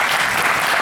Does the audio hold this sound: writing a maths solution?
no